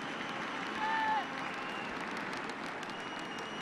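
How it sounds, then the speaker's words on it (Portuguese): Stadium crowd at a Brazil versus France football match at Arena do Grêmio, a steady broad roar of clapping and cheering with a brief whistle-like rise near the start, continuous and distant-sounding. "A torcida se manifesta, bate palmas, grita Brasil"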